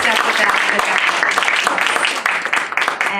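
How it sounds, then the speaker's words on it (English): Audience applauds partners and sponsors at a live conversation event, clapping heard beneath chatter and voices for a few seconds. "Let's give them a nice round of applause."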